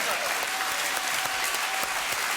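Studio audience applause on a French television show, a dense, steady wash of many clapping hands filling the room at an even level throughout.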